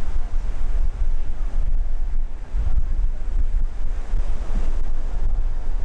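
Surf washes onto a resort beach at Royalton Hicacos in a continuous roar, loud and close, with wind buffeting the microphone throughout.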